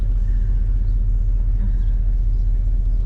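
A just-repaired car running, a steady low engine rumble heard from inside the vehicle, constant and fairly loud with no change in pitch and no talking.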